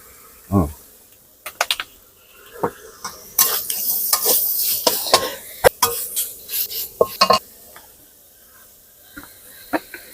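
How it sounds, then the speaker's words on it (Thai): Red curry paste stir-fries in a little oil in a pan for a spicy pork belly dish, heard as intermittent bursts of scraping and sizzling with brief quieter gaps between them. "พริกแกงเนี่ยลงไปเลยพริกแกงเผ็ด น้ำมันลงนิดหน่อยครับ"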